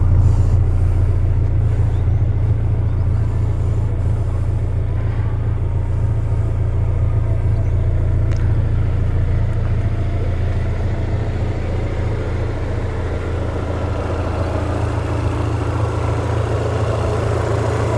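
The engine of a 2001 Chevrolet Blazer DOHC runs at a smooth, steady idle, giving a loud, close, continuous low rumble that stays even across the whole stretch with no talk.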